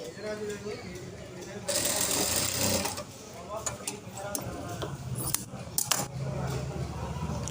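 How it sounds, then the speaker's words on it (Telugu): A sewing machine stitching the hook strip of a blouse, a run of fast close mechanical whirring and clicking in short bursts, with someone talking over it at times. "ఇప్పుడు హుక్స్ పట్టి కాజపట్టి అనేది కుట్టేసుకుందాము."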